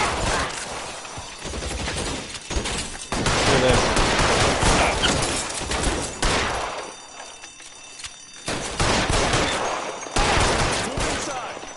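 Gunfire in the video game L.A. Noire, with bursts of rapid shots and heavy volleys coming in loud, dense waves, broken by short quieter gaps.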